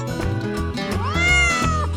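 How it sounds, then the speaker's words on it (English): A farm cat gives loud, close meows, several drawn-out rising and falling calls in quick succession, with no talk over them. "Look at the cat!"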